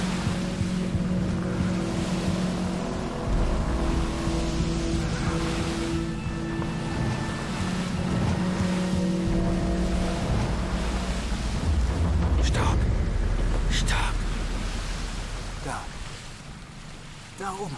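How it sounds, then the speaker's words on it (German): Motorboat in Battlefield Bad Company 2 running under a bridge, a steady low engine hum mixed with rushing water and wind, close and continuous, with a few sharp splashes or bumps near the end. "wenn man so mit einem Motorboot hier unter dem Boot unter der Brücke durchgeht"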